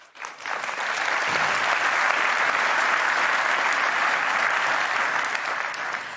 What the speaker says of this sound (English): There was a lot of applause there.